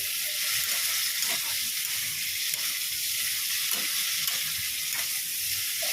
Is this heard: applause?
no